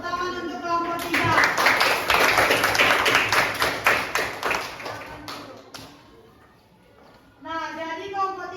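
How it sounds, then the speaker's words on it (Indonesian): A classroom of students applauds a student group after their presentation, a burst of dense clapping lasting several seconds before fading, with a teacher talking before and after. "tepuk tangan untuk kelompok 3"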